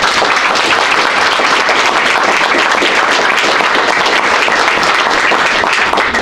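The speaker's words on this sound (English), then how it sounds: "we would like to give a very big round of applause to our partners and sponsors, Jose Calderon and Rainier Bondo" An audience at a presentation on an energy monitoring project at a hotel resort gives a big round of applause, a loud, continuous wash of many clapping hands throughout.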